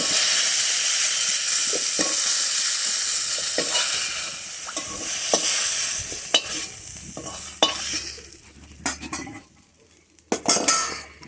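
Spices for a Bengali shukto tempering sizzle in hot oil in a kadai, a steady loud hiss with sharp spatula scrapes and clinks against the pan, the frying fading somewhat toward the end.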